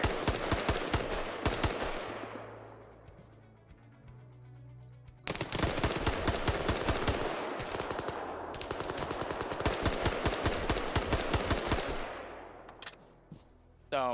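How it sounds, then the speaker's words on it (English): Bursts of rapid automatic gunfire in Arma 3 during execution headshots, loud and close, with long sustained strings of shots split by a short pause and fading echoes. "So let's do some execution headshots, let them respawn"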